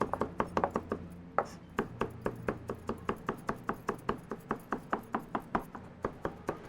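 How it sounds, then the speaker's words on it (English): A knife chops rapidly and rhythmically on a cutting board, steady crisp thuds in quick succession, near and fairly quiet. "So I'm just gonna continue to chop it."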